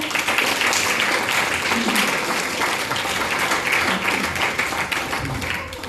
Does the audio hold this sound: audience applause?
yes